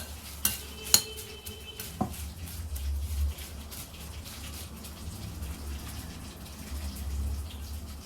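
Homemade furikake ingredients are stirred together in a bowl, with a few sharp clinks of a utensil early on followed by a steady, faint scraping and rustling.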